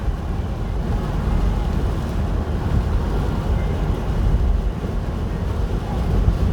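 Strong storm wind roars steadily around a vehicle driving into stormy weather, a dense continuous low rumble of buffeting gusts with no talk.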